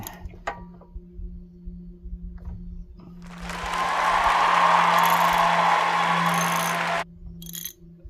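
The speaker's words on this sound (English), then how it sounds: "I just used a wrench and my socket" A deep socket on a wrench works a welded-on nut loose from a stripped hydraulic fitting on a farm tractor. After scattered metallic ticks and a low hum, a steady grinding whir rises for several seconds and then cuts off abruptly.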